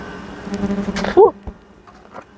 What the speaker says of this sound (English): Bugs flying right in your face out here.